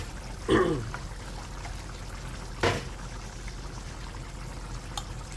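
Two brief, wet plops of shrimp paste land in a pan a couple of seconds apart against a quiet background, soft and close.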